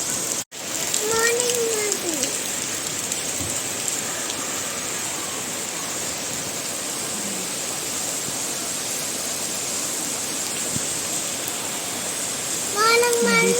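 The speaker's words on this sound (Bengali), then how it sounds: "যে পরিমাণ বৃষ্টি নামছে একেবারে" Heavy rain pours down in a dense, steady roar that stays loud and even throughout, with a few faint high chirps rising briefly above the downpour.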